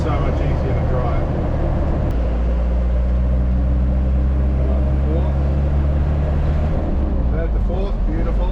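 A Land Rover Perentie 6x6 ambulance engine drones steadily and loudly, its low hum dropping in pitch partway through as the gearbox shifts from third to fourth, with a person talking over the running engine.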